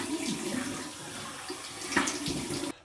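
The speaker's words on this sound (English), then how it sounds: "So we're just going to do a cold water rinse" Tap water running steadily into a sink for a cold water rinse after a shave, a constant close splashing rush that cuts off abruptly at the end.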